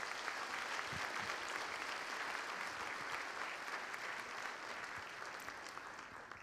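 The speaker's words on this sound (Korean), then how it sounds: "여러분 힘찬 박수 부탁드립니다." A large audience claps steadily at a seventh-anniversary ceremony for the October 4 inter-Korean summit declaration, dense sustained applause that fades slightly toward the end.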